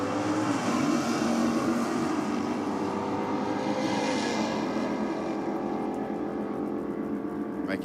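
A drag racing car making its first pass of the day down the lane, a loud sustained engine roar that stays steady and dense throughout.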